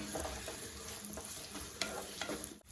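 Two medium sliced onions sauté in a pan for a soya chunk curry, giving a soft sizzle with occasional stirring scrapes. The sound stays fairly quiet and steady for a few seconds.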